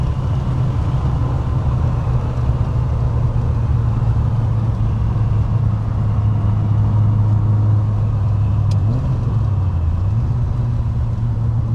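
A Mk1 Volkswagen Golf CTI's engine pulls in gear from around 80, a steady close drone that rises slightly, with a brief shift in pitch near the end and no talking.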